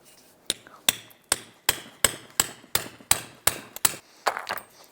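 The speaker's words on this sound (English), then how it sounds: "remove the band clamp off of the CV axle boot. You can use a punch." A hammer strikes a punch to knock off the band clamp on a CV axle boot of a 2001-2005 Honda Civic, ringing out about eleven sharp metallic blows at a steady rhythm, loud and close, alone.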